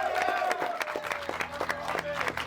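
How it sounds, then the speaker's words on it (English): Guests applaud a tour guide during a night out, a burst of close, dense clapping over crowd noise with a steady tone running beneath it. "So round of applause."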